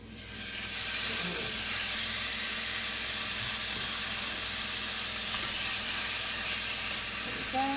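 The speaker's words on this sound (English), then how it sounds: "You're gonna go ahead and put your chicken in." Chicken pieces frying in a hot skillet produce a loud, steady sizzle that swells within the first second and then holds evenly, close up, with no talk.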